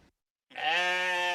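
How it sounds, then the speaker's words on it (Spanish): A single sheep gives one clear, sustained bleat, loud and close, after a brief moment of silence. "La oveja."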